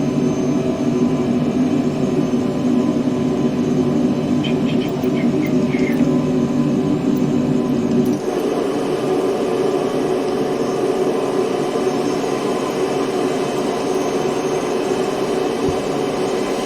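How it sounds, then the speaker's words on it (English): The engines of an Antonov cargo plane give off a loud, continuous low roar that stays steady for over fifteen seconds. The tone shifts slightly partway through, and nobody talks over it. "That is one mighty big plane."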